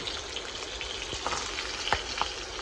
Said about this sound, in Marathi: चिंबोरी पण खूप छान फ्राय होणार आहे याच्यामध्ये